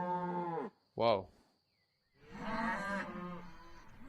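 Several sampled cows moo in turn: a long low call, a short sharp bellow, a silent gap, then a second drawn-out moo, close and clear with no talk.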